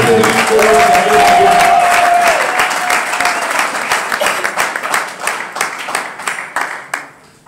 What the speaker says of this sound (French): nous acclamons très très fort les tables